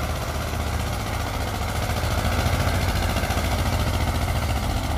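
A Swaraj 744 FE or Escorts 335 tractor engine runs steadily, a continuous low diesel throb with fast rhythmic knocking, close and loud, with no talk.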